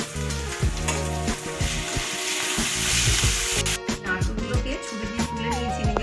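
Tomatoes and slit green chillies frying with onion, ginger and garlic in a pan, a loud continuous sizzle with stirring clatters throughout.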